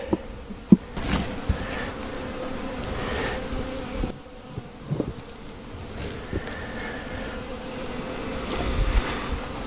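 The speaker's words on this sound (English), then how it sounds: "These bumblebees are very tolerant of being moved around." Bumblebees, including a large tricolor with an orange band, buzz around a mating nuc hive outdoors, with rising and falling drones passing near and far amid faint rustling and occasional bumps.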